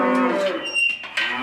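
Cattle on a farm where calves are being handled moo loudly and close, one long harmonic bellow followed by further shorter moos, with no talking.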